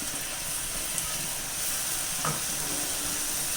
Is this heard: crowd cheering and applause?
no